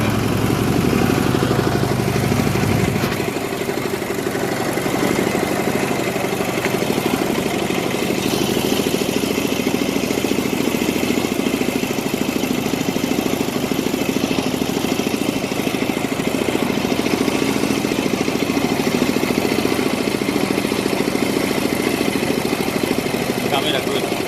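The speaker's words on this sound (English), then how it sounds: "We are sitting in a bike." A motorcycle engine runs steadily throughout a tour ride in Georgia, a constant loud droning rumble with wind noise, and voices are heard talking over it.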